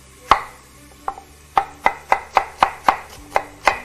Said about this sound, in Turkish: Bundan sonra soğanını doğrayalım etin.